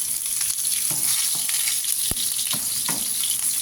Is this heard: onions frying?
yes